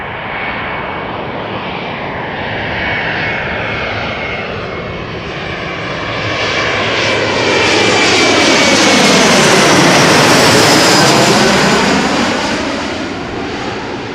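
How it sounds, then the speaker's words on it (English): A LOT Embraer 175 airliner on arrival at Amsterdam Schiphol roars in close and loud, its jet whine rising and swelling as it passes overhead, then easing slightly as it moves away. "LOT flight 263 arriving from Warsaw, Embraer 175"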